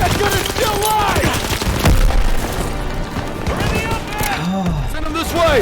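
Intense World War II combat in Call of Duty WW2 gameplay: heavy rifle and machine-gun fire alongside repeated booming grenade explosions, all loud and dense, with soldiers shouting over the chaos.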